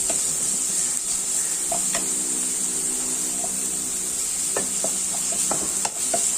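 Ginger, garlic and pepper paste sautéing in a pan for a Kuttanadan duck roast, with a steady low sizzle and occasional stirring scrapes and clinks, close and fairly quiet, no talk.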